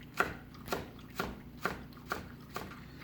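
A knife slices scallions thinly on a cutting board, six even, soft thuds at a steady rhythm, close but quiet.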